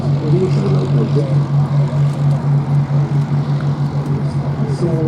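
Restored Bristol Blenheim in flight at an airshow at Duxford, a loud, steady propeller-engine drone holding throughout with a pulsing throb, while a commentator talks faintly over it.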